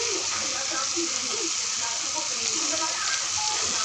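Jackfruit frying in oil with garlic, ginger, cumin and dry chili, a steady broadband sizzle that holds evenly throughout with faint stirring scrapes and a voice murmuring underneath.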